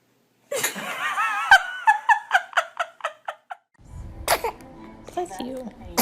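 A baby lets out a sudden sharp sneeze, followed by a quick rhythmic run of short breathy bursts, and then voices talking nearby.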